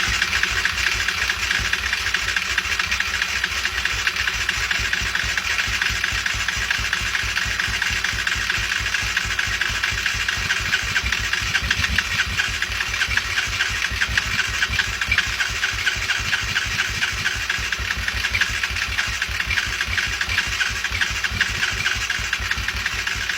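A Honda TRX250 quad engine runs with the choke on and the carburettor intake partly covered, giving a loud, close, steady rapid thumping idle throughout with a hissy wash over it.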